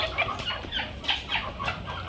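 Hens clucking in a poultry shed, a brief run of close, repeated clucks and short calls from several birds with no talking.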